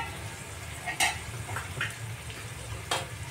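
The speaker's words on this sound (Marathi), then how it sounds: "आता या भाज्या आपण शिजवून घेणार आहोत" Mixed vegetables for paneer biryani cook in a pan with a soft, steady sizzle, broken by a few quiet clinks and scrapes of a spoon stirring against the pan.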